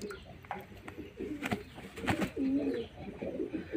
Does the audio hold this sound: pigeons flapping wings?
yes